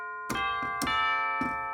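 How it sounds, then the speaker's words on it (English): Tubular bells in an orchestral Christmas arrangement, four clear metallic strikes with long ringing overtones sustaining between hits, no talking. "you pretty much have to have tubular bells"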